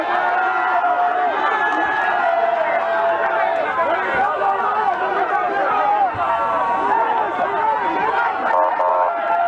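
A large crowd of political militants gathered around an opposition figure in Congo, a dense, loud hubbub of many voices chattering and calling out continuously, with occasional cheers.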